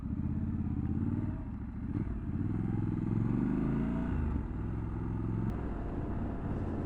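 A Triumph Scrambler 1200 XE motorcycle rumbles steadily while being ridden, with a deep, continuous engine drone and some wind noise and no breaks.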